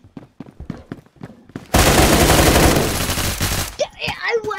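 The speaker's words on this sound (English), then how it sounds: "Man, why are you shooting at the wall" Sustained automatic gunfire in the video game Phantom Forces, a dense loud burst lasting about two seconds, preceded by quick footsteps and followed by lighter game noise.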